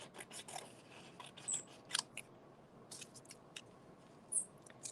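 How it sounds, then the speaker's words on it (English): Scissors snip through colored paper while strips are cut for a weaving craft, a series of light, crisp clicks and cuts spaced irregularly over quiet room tone. "And now I'm just going to cut it into some long rectangles."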